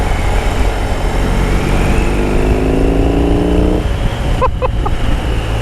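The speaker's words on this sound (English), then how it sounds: "Can you hear the exhaust?" A 2020 BMW R18 motorcycle on the move, its exhaust a loud, continuous low rumble that rises steadily in pitch as it accelerates, then drops back, with a brief burst of wind or voice near the end.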